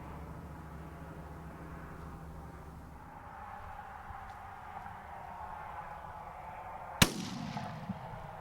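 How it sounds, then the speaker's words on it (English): A single sharp rifle shot while hunting jackrabbit in an open field, loud and close, with a brief echo rolling away after it, preceded by a low hum like a distant engine or aircraft. "Alright, so I just shot this jackrabbit out here."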